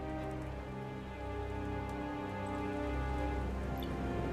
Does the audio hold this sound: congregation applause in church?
no